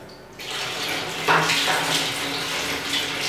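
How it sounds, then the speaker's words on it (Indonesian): Running water pours steadily as processed photographic film is rinsed after the fixer bath in a darkroom, a loud, continuous close-up wash with no one speaking. "setelah dari fixer, kita masukkan dulu ke air untuk dibilas."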